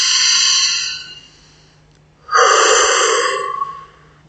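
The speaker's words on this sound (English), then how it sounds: "So we want to shift into nose breathing." Two long, deep breaths drawn in through the nose, each a loud, airy hiss lasting over a second, separated by a short pause, close up with no talking.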